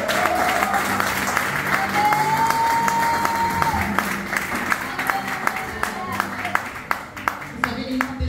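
Applause and cheering from a church audience at a mission gathering in Abidjan, sustained clapping that tapers into scattered claps, with voices calling out over it.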